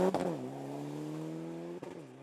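Mitsubishi Lancer Evo 9 rally car at speed on a stage, engine surging loudly up through the revs and holding a steady high drone before a sharp break near the end.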